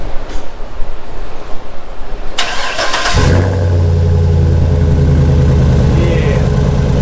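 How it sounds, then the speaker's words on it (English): A car cold-starting with a newly installed exhaust, cranking briefly and then catching into a loud, deep, steady idle rumble. Voices chatter near the car before the start. "We finally got it all installed. He's gonna do a cold start."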